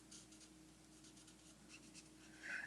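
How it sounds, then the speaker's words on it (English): Brush-end marker colouring on designer series paper, a soft continuous scratchy rub with short repeated strokes, close and quiet with no talking. "I should probably use the brush end for this"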